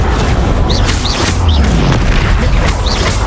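An Incendio fire spell is cast in the Hogwarts Legacy game, giving a loud, dense roaring whoosh with booming low rumble and repeated flaring bursts, up close and without speech.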